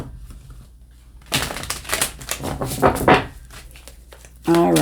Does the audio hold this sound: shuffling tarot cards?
yes